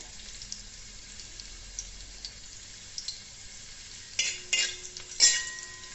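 Vegetables for fried rice frying over a high flame, a steady soft sizzle with a few sharper bursts of hiss and clatter near the end.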